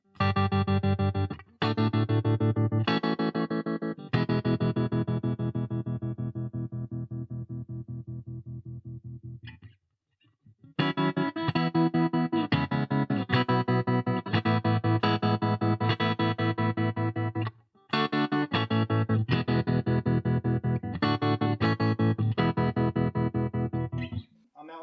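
Electric guitar through a Donner Alchemy pedal with tremolo depth maxed, loud sustained chords pulsing in choppy volume throbs, with a couple of brief pauses between phrases.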